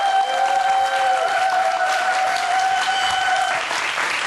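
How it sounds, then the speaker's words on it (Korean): A crowd gives sustained, even applause to welcome a guest onto a television talk program, with a bright musical tone held over the clapping for most of it before fading. "큰 박수로 환영해주세요"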